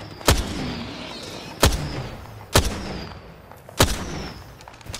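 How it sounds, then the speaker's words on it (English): Four sharp, loud gunshots from Apex Legends ring out at uneven intervals, each a hard crack with a short rumbling tail over quiet game ambience. "Shots fired."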